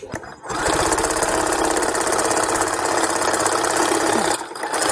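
Sewing machine stitching up the side of a fabric overnight bag, a loud close rapid rattling chatter running steadily for about four seconds after a short backstitch start, then stopping.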